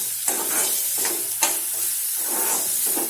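Finely chopped onion sautéing in a pan sizzles steadily and loudly, broken by a few sharp stirring scrapes, no voices.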